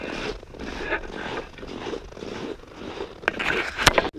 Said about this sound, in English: My freaking zipper is frozen.